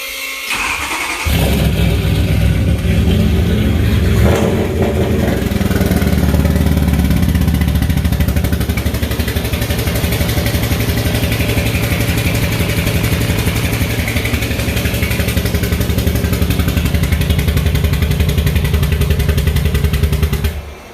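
A turbocharged BMW E92 M3 V8 cranks, catches and settles into a loud, rough, throbbing idle with blips of revving, sustained for about twenty seconds close by.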